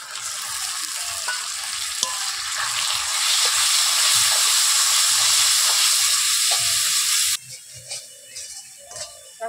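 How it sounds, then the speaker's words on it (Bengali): Spice masala of tomatoes, turmeric and chili powder sautéing loudly in a pan, a dense steady sizzle with occasional stirring scrapes that cuts off sharply near the end, leaving quieter clinks. "মশলাটা ভালোভাবে কষিয়ে নেব।"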